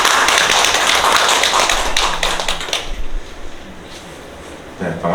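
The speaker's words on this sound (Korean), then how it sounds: "박수 해주십시오." Audience applause in a seminar hall fills the opening seconds as a dense wash of many hands clapping, then thins out and fades to near quiet before a voice begins near the end.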